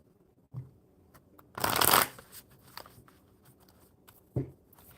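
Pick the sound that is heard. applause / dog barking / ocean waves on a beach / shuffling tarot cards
shuffling tarot cards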